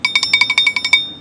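Honda S660 clutch bell rattling as a loud run of about ten quick metallic ringing pulses in just over a second, heard alone.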